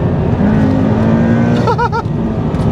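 A 200-horsepower Toyota GT86 drives along, its engine droning loud and close with a steady rising tone, joined briefly by a few chirping, wavering squeals near the end.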